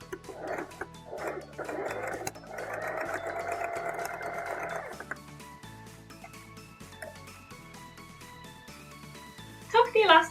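A sewing machine stitches the overlapped ends of an elastic waistband for a Simplicity 9041 dress, running in short rhythmic bursts followed by a longer steady run, with brief sharp barks near the end.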